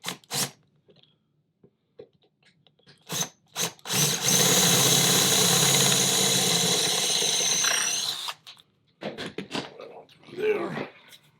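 A power drill drives a bolt, whining loudly and steadily for about four seconds in the middle, with short bursts of handling noise and brief voices before and after.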